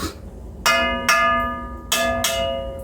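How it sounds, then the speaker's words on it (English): Bells ring out in a series of bright, resonant strikes, four clear tolls with long humming decays, fairly close and loud. "Sounds like the bells are coming in."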